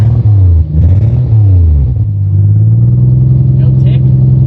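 A Toyota Supra engine, running again after ten years sitting, is revved hard at full throttle close by. The pitch rises, dips and swells, then holds at a loud, steady drone, with voices heard alongside.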